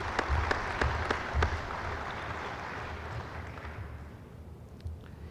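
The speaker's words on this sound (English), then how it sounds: "Let's give them a round of applause" Audience at a 1976 South Dakota Farmers Union convention breaks into steady applause, a dense clapping crowd with a few sharper claps near the start, sustained and fairly even throughout.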